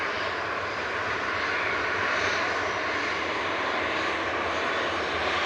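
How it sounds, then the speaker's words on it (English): Jet engines of a departing Ryanair Boeing 737-800 at Manchester Airport roar in a steady, loud, broadband wash throughout, unbroken and without any talking. "Next to go is Ryanair with a 737-800."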